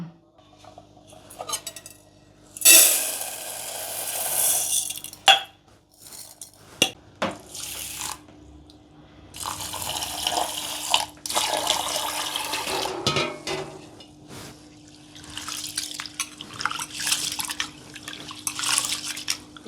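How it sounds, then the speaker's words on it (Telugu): One glass of basmati rice is set to soak, with close splashing bursts of poured water and scattered drips and trickles in between, uneven and unaccompanied by speech. "బాస్మతి రైసు ఒక గ్లాసు నానబెట్టుకుందాం"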